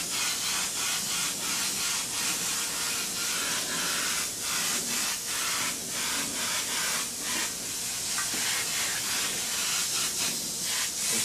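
A steady, loud hiss of a single airbrush spraying paint onto a black shirt runs continuously, pulsing slightly in short rhythmic bursts, with no voices.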